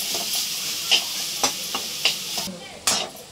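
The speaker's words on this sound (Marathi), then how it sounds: "आपण ढवळताना शेवटी आपल्याला जड येतं चमचा असं" A spoon stirs a thick jaggery and grated coconut mixture in a pan for a modak filling, giving soft scraping swishes with several sharp scrapes and clinks over a faint steady sizzle, close up and without talk.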